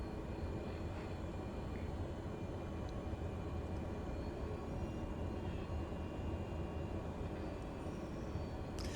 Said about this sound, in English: This is my go-to airplane because it's not too small, it's not too big.